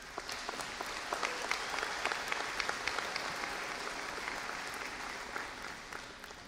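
A graduation audience at East Liverpool High School's 150th commencement applauds steadily, a dense, sustained wash of clapping from a large crowd that fades slightly toward the end.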